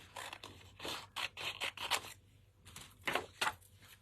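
Scissors trim scrapbooking paper in a string of quick, close snips, some in rapid pairs, with a brief pause before a few final cuts.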